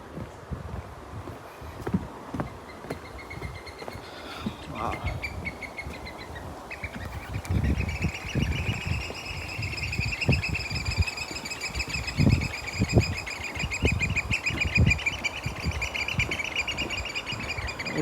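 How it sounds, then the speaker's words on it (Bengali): A flock of birds chirps and squabbles outdoors, with busy overlapping high twittering that grows denser and louder partway through, accompanied by the steady thud of footsteps walking close by. "পাখিগুলো ঝগড়া করতেছে"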